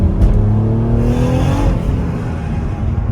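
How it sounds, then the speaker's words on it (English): Mazda car engine droning steadily and loudly nearby, a continuous low rumble with shifting engine tones through the whole stretch, heard from inside or beside another car during tuning. "why that Mazda gotta make all that noise?"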